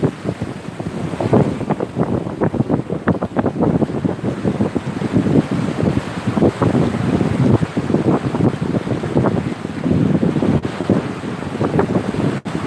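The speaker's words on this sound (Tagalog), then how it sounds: "alon." Sea waves wash in and out at a beach, heard as steady broadband surf with repeated swells and strong wind buffeting the microphone, loud and continuous with no speech.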